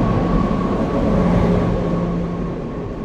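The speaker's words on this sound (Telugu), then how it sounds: "ఇప్పుడు మన ట్రైన్ ఆ ట్రైన్ ఓవర్టేక్ చేయబోతుంది అనమాట" A passenger train on the Konkan Railway, the Mandovi Express from Madgaon to Mumbai, overtakes another express train. Its steady, loud rolling rumble and rail noise carry a faint sustained tone throughout, fading slightly toward the end.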